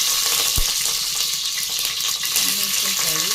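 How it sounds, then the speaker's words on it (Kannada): Green chillies frying in hot oil while being stirred, a loud, constant crackling sizzle up close with a sharp clink early on and a voice faintly underneath near the end. "ಹಸಿಮೆಣಸಿನಕಾಯಿ ಹಾಕ್ತಾ ಇದ್ದೀನಿ."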